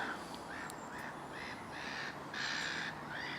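Crows caw repeatedly over a shallow carp lake at St Ives in mid May, a string of rhythmic harsh calls at moderate distance, faint against steady outdoor background noise.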